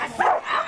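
A trained dog gives a short, close bark while a trainer playing a suspect teases it during bite training.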